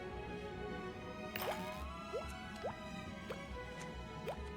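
Water dripping through pipes in the Automachef cooking game, with distinct plinking drops spaced about half a second to a second apart over a faint steady background hum, fairly quiet and without speech.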